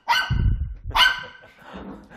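A dog barks loudly at close range in two sharp outbursts, the second trailing into lower rumbling and a softer follow-up yelp, heard during a behaviour-training session.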